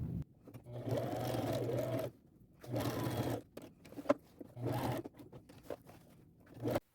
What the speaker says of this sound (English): And now I'm going to sew them. I'm using a straight stitch.